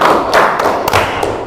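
Classroom of students clapping hands together in a counted clapping game, a few sharp bursts of claps and thuds at a steady pace, loud and close with no talking.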